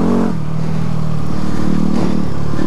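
Close, loud engine drone from a Yamaha WR250R dual-sport motorcycle ridden in third gear on an unfamiliar dirt trail, steady with slight rises in revs and rattling clatter underneath.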